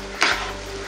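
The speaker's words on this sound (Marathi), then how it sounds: "कांदा लालसर रंगापर्यंत आपल्याला परतून घ्यायचा आहे." Finely chopped onion being fried and stirred in hot oil in a pan. A brief scraping stir rises over a steady, close sizzle.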